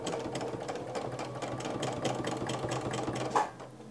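A sewing machine doing free-motion quilting, stitching in a quiet, steady, rapid rhythm for several seconds before slowing and stopping near the end.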